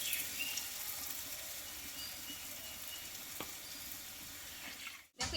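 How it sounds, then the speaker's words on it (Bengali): Lentil fritters (dal bora) fry in hot oil, a faint, even sizzling hiss that holds steady before a brief drop and a soft clatter at the end. "ডালের বড়াটা আমি দুবারে ভেজে নেবো একবারে হবে না"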